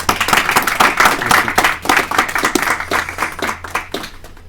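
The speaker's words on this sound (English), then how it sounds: "Let's give our speakers another round of applause." An audience at a military society convention claps for its speakers, a dense, loud round of applause that holds steady and then thins out toward the end.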